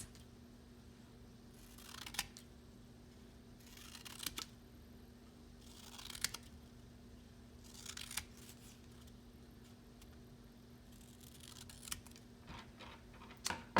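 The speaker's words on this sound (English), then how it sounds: "I'm going to take my scissors and I'm just going to start cutting this into" Scissors slicing paper into strips for a children's snowman craft, with about six separate rustling cuts spaced roughly two seconds apart, close and fairly quiet.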